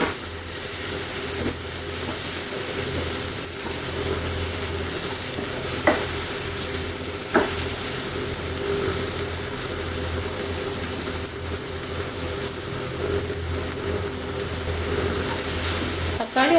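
Chopped tomatoes frying in a hot pan: a steady, close sizzle runs throughout, broken by occasional sharp clinks of a spoon stirring against the pan.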